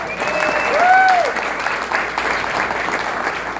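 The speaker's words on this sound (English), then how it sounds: "So let's all give them a big hand." An audience applauds loudly and continuously, a dense wash of clapping heard nearby, with a few brief whistles or cheers over it early on.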